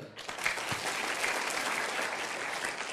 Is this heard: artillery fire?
no